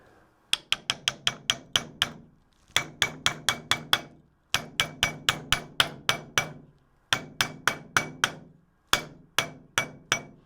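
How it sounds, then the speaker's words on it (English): Close, sharp hammer taps seating a bearing retainer during assembly of a 62TE transmission compounder, struck in quick bursts of about five to seven blows separated by short pauses. "Line up the holes there. And give it a tap."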